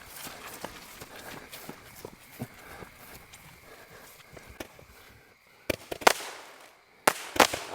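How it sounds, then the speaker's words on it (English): Sunwig 'Till the Cows Come Home' 210-shot firework cake at a Memorial Day fireworks show, firing a steady rapid string of small crackling pops, then several louder, sharper bursts near the end, heard at moderate distance. "Till the cows come home. 210 shots by Sunwig Fireworks."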